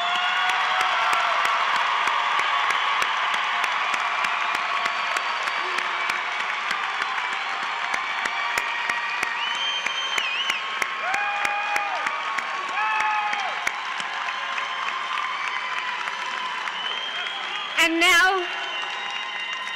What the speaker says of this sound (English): Please join me in one big round of applause for all of our graduates.